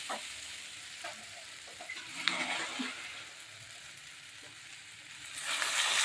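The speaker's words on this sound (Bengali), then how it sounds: "এখন আমি রসাটা দিয়ে দিচ্ছি।" Liquid goes into a pan of fried flat beans and potatoes with spices, and the mix is stirred. There is a soft, quiet sizzle, a brief splash and scraping, and the hiss swells near the end.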